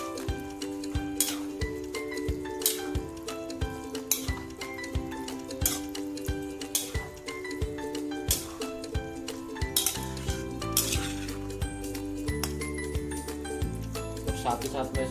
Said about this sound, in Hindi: और अब मैं इसमें अपनी प्याज और भिंडी डाल दूंगा, जो हमने शैलो फ्राई कर रखी थी। वो अच्छे से मिक्स करेंगे हम।